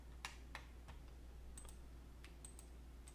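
A computer keyboard is used during CAD work, with a handful of quiet, crisp key clicks spaced irregularly over a soft electrical hum, close and without speech.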